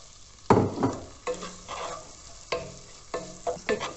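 Onion fries in butter in a pan and is stirred. Several distinct scraping stir strokes sound over a soft sizzle, close and moderately loud, spaced irregularly across the few seconds.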